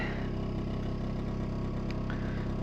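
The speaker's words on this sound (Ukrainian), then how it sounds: "у мене там моторчик уже прогрівся, треба їхати." Small warmed-up motor running steadily outdoors by a frozen river, a continuous low engine hum with a rhythmic throb, close and even throughout.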